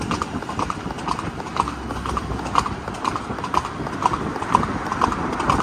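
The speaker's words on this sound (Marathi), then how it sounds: "मस्तानी बघा कशी पळते एकदम खतरनाक मध्ये।" A mare and other horses trotting along a road on the way to an event, with hooves clip-clopping in a steady, even rhythm. The hoofbeats are close and clear over constant background noise.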